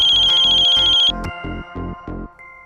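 An incoming call rings on a mobile phone: a loud electronic ringtone sounds in several evenly spaced bursts, then fades into a short trailing tone.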